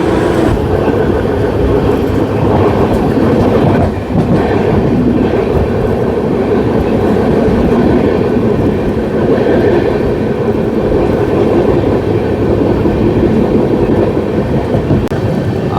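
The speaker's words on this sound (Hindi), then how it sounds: "अब दोस्तों ये ट्रेन ऐसे ही क्रोल करके धीरे धीरे चलेगी" Amrit Bharat Express hauled by a WAP 7 electric locomotive crawls slowly, a steady loud rumble and rolling clatter of coaches heard from inside, continuous with no voices.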